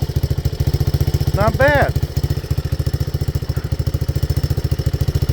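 A 1985 Honda ATC 200X three-wheeler with a new exhaust, idling close by with a steady, fast single-cylinder putter; someone speaks briefly over it.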